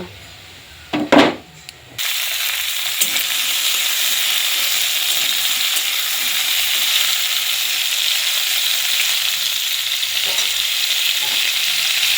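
Washed raw mango pieces drop into hot mustard oil in a kadai, opening with a brief clatter and then settling into a steady, loud frying sizzle with occasional faint stirring scrapes.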